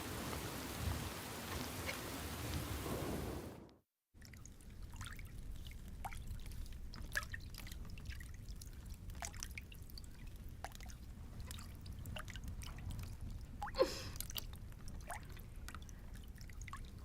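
Heavy stormy rain pours and patters steadily on surfaces, with scattered sharp drips and one louder splash or crack near the end. A stronger, denser burst of rain comes before a brief silent break.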